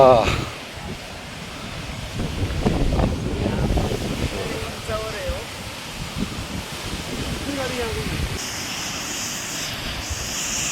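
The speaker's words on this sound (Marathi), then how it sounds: "हा आहे मागच्या बाजूला कोसळणारा आपला मडे घाटातला फेमस धबधबा" A waterfall in Madhe Ghat roars as a constant wash of rushing water, with wind buffeting the microphone and voices talking now and then.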